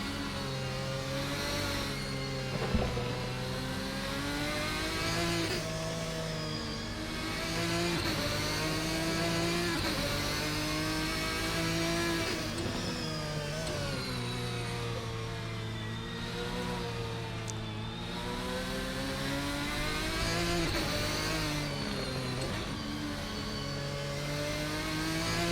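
A GT1 race car in a sim racing game at Spa-Francorchamps revs hard through repeated gear shifts, its engine note rising and dropping in a continuous loud cycle with no talking over it.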